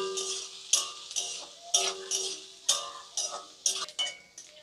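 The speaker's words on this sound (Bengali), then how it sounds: "পেঁয়াজটাকে ভালো করে ভেজে নেব।" Chopped onion fries in a pan for a ridge gourd vegetable curry as a utensil stirs it. Sharp scraping clicks repeat roughly once per second over a faint, steady sizzle, close by and without any voice.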